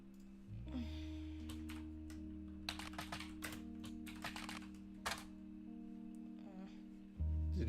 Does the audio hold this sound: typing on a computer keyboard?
yes